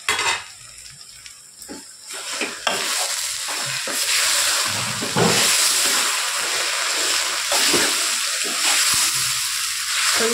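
Amaranth leaf fry cooking in a pan just after the lid comes off: clattering pot and utensil knocks at first, then a steady sizzle with repeated stirring scrapes.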